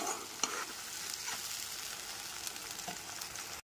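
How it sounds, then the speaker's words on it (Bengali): Onion, ginger, garlic and tomato paste frying with spices in a pan over a medium gas flame for a Bengali soya chunk curry, a steady close sizzle broken by occasional stirring scrapes. "গ্যাসের ফ্লেমটা মিডিয়ামে রেখে সমস্ত মশলাগুলো ভালো করে কষাচ্ছি"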